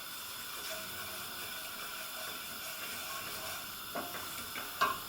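Vegetables for a vegetarian chilli with soya mince frying in a pan, a steady close hiss and sizzle throughout, with a couple of faint utensil knocks near the end and no voices.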